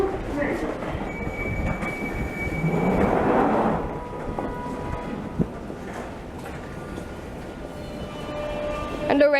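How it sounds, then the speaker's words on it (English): A London Underground train at a platform rumbles and rolls with a steady rattling roar, a swell of wheel and motor noise, faint squeals and clicks, and background voices throughout. "And already the next train is approaching."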